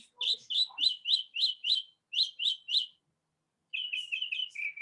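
Small birds sing outdoors in a run of bright repeated chirps, a dense series of clear notes, then a brief silence, then another quicker burst, close and loud against a quiet background.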